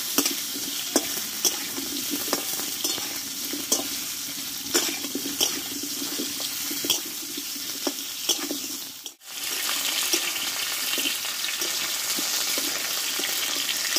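Pointed gourd (potol) sautéing slowly in a pan gives a steady, soft crackling sizzle, broken by brief stirring scrapes and a sudden drop to near silence midway before the hiss resumes.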